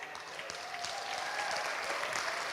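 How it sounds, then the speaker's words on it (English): Applause from a crowd at an awards gala, a dense patter of clapping that holds steady and swells slightly toward the end. "Give her a round of applause."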